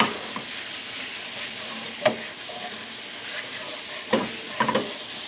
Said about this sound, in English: So now what I want to start to do is scrape up some of these bits off this pan.